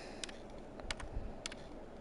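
Faint, sparse clicks of typing on a computer keyboard, a few isolated key taps spread over two seconds against a quiet background hiss.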